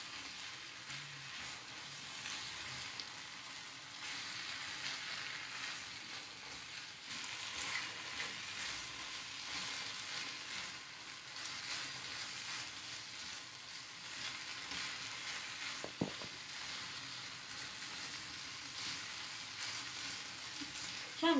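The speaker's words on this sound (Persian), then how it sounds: "قارچی رو که به این شکل خورد کردیم اضافه میکنیم به مواد ماکارونی. یه تفت کوچولو قارچ رو میدیم" Chopped mushrooms sauté in a pan with spaghetti sauce ingredients, giving a steady, fairly quiet hiss and sizzle throughout, with an occasional soft clack from stirring and no talking.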